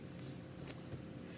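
Water sprayed from an old, rinsed-out Dawn dish soap bottle onto the edges of stretch denim fabric: three short, close hissing spritzes over a low room hum.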